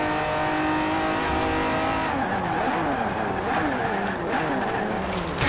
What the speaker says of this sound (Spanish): Aquí viene frenada fuerte.